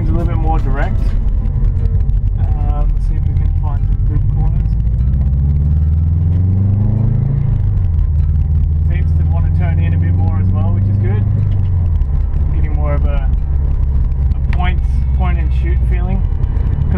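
A 2011 Subaru WRX STI with a lower control arm brace cruises along, its engine a steady low rumble with gear-change dips and rises in pitch, while people talk inside the cabin over it.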